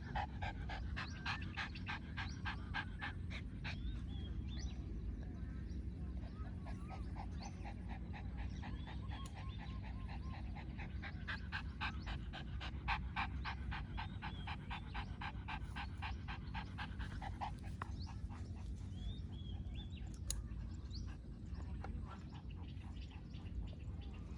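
A dog panting rapidly in hot, muggy evening weather outdoors, a steady close rhythmic huffing that goes on without pause, with faint birds or frogs in the background.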